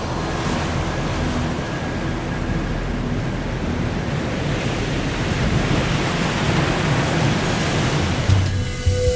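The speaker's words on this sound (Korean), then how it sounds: "북극의 강한 바람은 겨울 동안 거의 매일 시속 100km 이상으로 분다" Strong Arctic wind blows over open sea, a loud, unbroken roar of wind and surf that holds steady throughout, with a brief rumble near the end.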